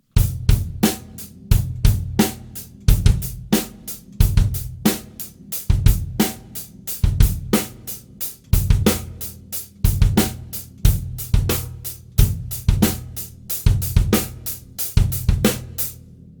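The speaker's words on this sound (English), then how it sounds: "we will hear every permutation of 2 bass drum strokes against that" A drum kit plays a funk and rock coordination exercise, with two bass drum strokes placed against an unchanging ostinato. Crisp, evenly spaced hits repeat steadily over deep kick thumps in a looping groove, close and loud, with no voices.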